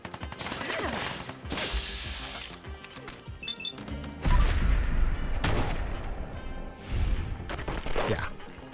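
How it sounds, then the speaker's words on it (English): Hardened sniper rifle fired in the video game Fallout 4, several loud, close, booming shots spaced a few seconds apart, each followed by mechanical clatter and in-game noise. "Let's try the sniper rifle. We got 11 shots."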